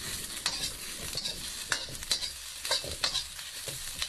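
Green chili peppers stir-fried in a dry wok with no oil, a faint crackle under repeated scraping strokes of the spatula at an uneven rhythm.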